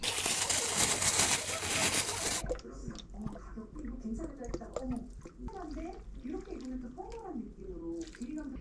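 Low-calorie tsuyu broth is poured over chopped vegetables and cabbage, with a loud rushing pour at the start giving way to soft bubbling and simmering. A person talks over it throughout.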